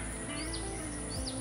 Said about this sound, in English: and birds are singing